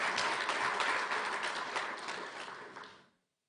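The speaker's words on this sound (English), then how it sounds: "I really want to request you again to give them another round of applause." Dense audience applause for a panel at a launch event on Rwanda's cashless journey, sustained and fairly loud, then fading and cutting off near the end.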